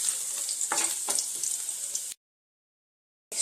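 Unpeeled garlic cloves sizzle and fry steadily in a hot pan, a close, continuous crackle with a few stirring scrapes, then cutting off abruptly into silence.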